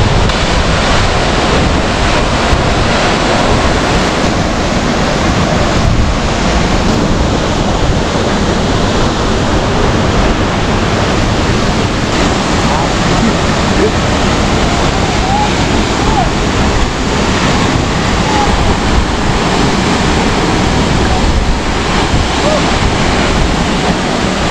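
Steady, loud roar of a waterfall rushing on without pause, a dense broadband wash of falling water heard up close.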